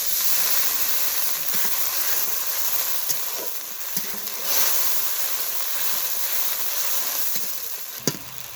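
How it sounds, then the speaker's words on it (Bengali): Tomato fries in a pan with turmeric and a splash of water for a snake gourd and shrimp curry, giving a soft steady sizzling hiss with a few faint clicks and stirs. "সামান্য একটু টমেটো দিয়ে দিই ভেজে নেব টমেটোটা"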